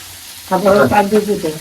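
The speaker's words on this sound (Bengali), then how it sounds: "এই যে শুটকি টালতে আছে" Dried fish (shutki) sizzles and crackles in a hot pan as it is pan-roasted for bhorta in a village kitchen, a sudden burst of frying with stirring scrapes.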